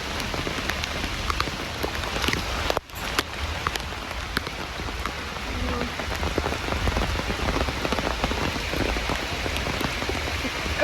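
Heavy rain pours steadily near Magod Falls in the Malnad region, a dense continuous hiss of drops on surfaces, loud and close, with one brief dropout partway through.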